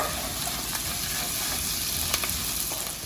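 Garlic and ginger paste sizzles steadily in a pan, a dense hiss with a few soft clicks of a spoon stirring through it, close and continuous with no voices.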